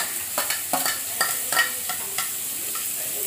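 Potato, beans and carrot sauté in a pan with tomato for masala pasta, a close, steady sizzle punctuated by several quick spatula scrapes and clicks.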